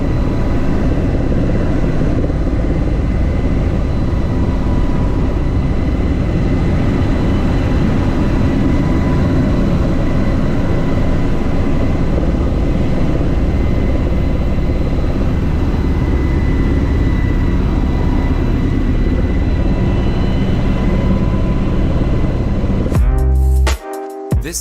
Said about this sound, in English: This low-flying helicopter flying through a valley in New Mexico.